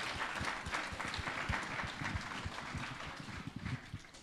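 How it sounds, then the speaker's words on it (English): A convention panel audience breaks into a round of applause: a dense, continuous patter of many hands clapping, heard faintly from a distance. "I'm applauding you because thanks for going along with it."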